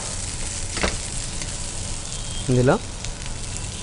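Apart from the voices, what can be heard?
paneer frying lightly in a pan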